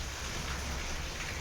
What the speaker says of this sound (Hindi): बाहर तो हो रही है ना बहुत तेज़ सी बारिश